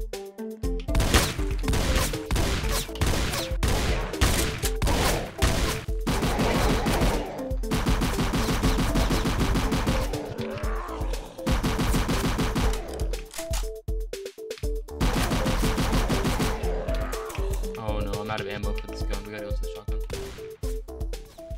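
Rapid bursts of gunfire from a Roblox Call of Duty–style zombies game, dense and continuous over a game soundtrack, with a shotgun among the weapons and a voice talking throughout.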